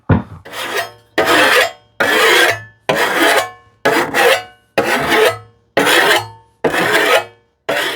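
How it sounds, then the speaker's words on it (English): A hand file draw-files the steel teeth of a tenon saw in a series of about nine evenly spaced rasping strokes, each a harsh, close scrape separated by brief pauses. "This time I used like almost a draw filing action. It took more steel."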